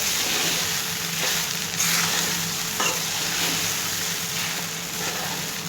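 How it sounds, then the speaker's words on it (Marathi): Sabudana (tapioca pearls) stir-fried in a pan with very little oil, giving a steady close sizzle with scraping stir strokes throughout and no talk. "आणि व्यवस्थित परतून घेऊया"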